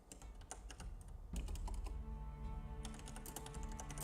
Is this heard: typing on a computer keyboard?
yes